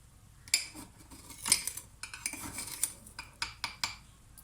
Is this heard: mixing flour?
yes